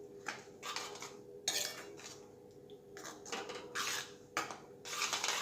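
A metal spoon scraping and clinking against a pan while stirring tomato gravy for a tuvar totha curry, irregular bursts of scraping with short pauses, close and fairly quiet.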